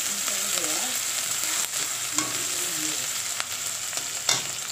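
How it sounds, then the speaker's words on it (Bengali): Chopped onion, garlic and green chilli lightly frying in oil with cumin seeds, a steady soft sizzle with occasional faint spatula scrapes and stirs throughout, no voices. "কেটে রাখা পেঁয়াজ কুচি, রসুন, কাঁচা লঙ্কা এর মধ্যে আমি দিয়ে দিয়েছি। এটা আমি হালকা মতন ভেজে নেব।"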